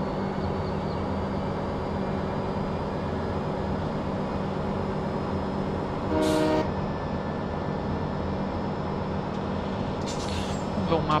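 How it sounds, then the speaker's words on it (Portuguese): A low, continuous train rumble in Farming Simulator 17, broken by a short horn toot midway and another brief horn burst near the end. "Buzina é boa."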